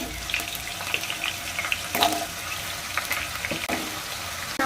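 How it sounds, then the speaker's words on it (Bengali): Potatoes frying in hot oil in a pan, a soft continuous sizzle with scattered pops and a few stirring scrapes, close and fairly quiet. "আলুগুলাকে আমি দিয়ে দিব।"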